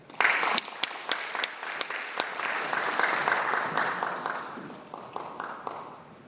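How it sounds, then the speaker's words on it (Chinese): Applause from a lecture hall audience after a talk on the Jingdezhen imperial kiln, beginning with a few sharp individual claps, then swelling into a dense, steady clatter of many hands and slowly thinning toward the end. "这个我们的掌声不够热烈呀"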